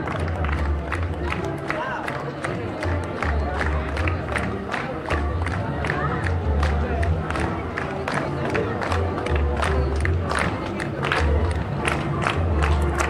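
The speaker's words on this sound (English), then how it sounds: "fans are clapping, they're cheering, singing the fight song" Purdue basketball fans greet the returning team at an Indiana airport after the NCAA title game, with a steady wash of crowd cheering, clapping and rhythmic singing of the fight song all the way through, loud and close.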